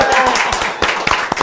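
Hands clap in a quick run of sharp, close claps during a casual Indonesian podcast, with people talking over and between them.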